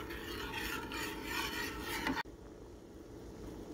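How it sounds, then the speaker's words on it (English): Green tea being stirred in a pot: steady, close rasping and scraping from continuous stirring that stops abruptly, then a quiet hum. "And so we're just going to stir that in there."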